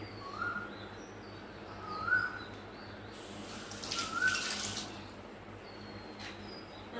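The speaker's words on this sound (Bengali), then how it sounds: "হাতটা একটু ধুয়ে নিই।" Tap water runs briefly in a home kitchen while hands are rinsed during cooking, a soft hiss rising mid-way and fading, with faint bird chirps outside and no talking.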